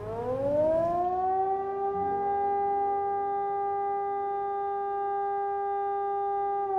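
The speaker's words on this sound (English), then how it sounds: "straight away the siren goes off." A loud fire station alert siren in Wānaka rises quickly to a steady, sustained wail with layered harmonic tones, holding its pitch without pause.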